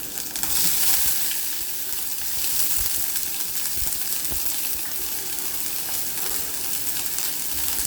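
Chillies and onion fry in olive oil with a loud, dense, continuous sizzle and crackle, broken by occasional soft knocks of stirring.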